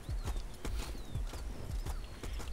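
Horse hooves clopping in the medieval combat game War of the Roses, a steady run of hoofbeats close by with faint whinny-like tones in the background.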